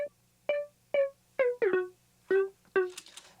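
Serum synth lead processed through Little AlterBoy with its formant lowered, a staccato melodic riff of about seven clipped notes with a darker, throatier timbre, played alone.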